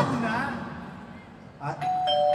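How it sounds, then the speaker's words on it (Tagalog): Talking fades out, then a doorbell chimes twice near the end, clear tones ringing over quiet room noise. "May nag-doorbell."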